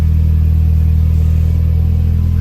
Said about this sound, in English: I can hear the pump.